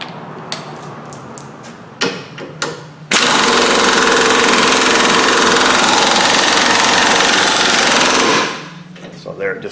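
Several sharp metallic hammer taps on a Jeep WJ ball joint ring out close by, then a loud pneumatic hammer rattles continuously for about five seconds before cutting off, followed by a few more light knocks.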